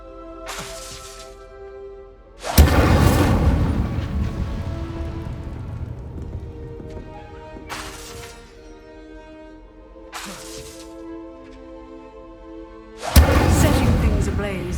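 Incendio fire spells are cast in the video game Hogwarts Legacy, producing four loud, separate blasts spaced a few seconds apart, with quieter tonal game music between them.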